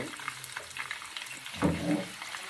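Hot ghee sizzles and crackles softly, then swells into a louder burst of frying as the tempering is poured into cooked lentils, continuing to hiss afterward.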